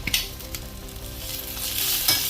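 Onion and chopped coriander sizzle steadily as they roast in a pan for a Malvani onion-coconut masala, with occasional scrapes of stirring and the frying hiss swelling louder toward the end.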